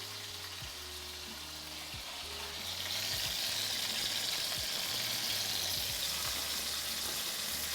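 Duck bacon sizzles and crackles in a hot pan, the fizzing growing louder partway through and carrying on steadily, close and alone without talk.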